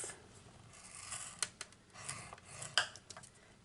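Cardstock being scored for a pop-up slider card: faint, brief scraping strokes with a few soft clicks, close by in a quiet room.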